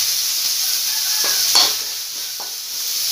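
Curry leaves crackling in hot oil with mustard seeds for kara paniyaram, a steady bright sizzle with a few sharp pops and stir scrapes, close and fairly loud, no voices.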